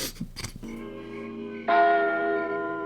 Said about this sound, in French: Très très fort la cloche, très très fort, beaucoup trop forte.